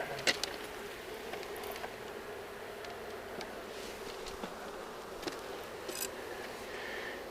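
Honeybees in an open hive during an inspection give a faint, steady buzzing drone close by, with scattered soft clicks and taps from handling of the hive frames.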